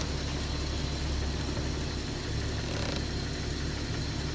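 A Jeep with a 4.0 liter six-cylinder engine idles with a steady low rumble, a faint clutch chatter running continuously underneath at close range, with no talking.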